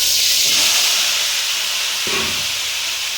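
Pieces of ridge gourd and potato drop into hot oil tempered with cumin, setting off a loud, dense hiss that swells sharply partway through and then holds as a broad, steady sizzle.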